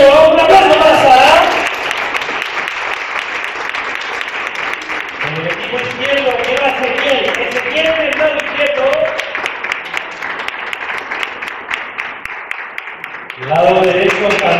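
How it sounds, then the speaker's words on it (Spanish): A crowd at an awards gala breaks into steady, dense applause lasting several seconds, with voices briefly heard at the start and end. "Un aplauso para Sara"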